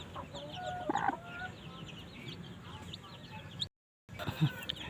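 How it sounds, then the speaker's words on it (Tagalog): A mother hen gives a few soft clucks close by in a yard where her chicks are kept, with people talking quietly nearby and a brief dropout near the end. "Ang pangalan ng manok ko na ito ay Brown Team."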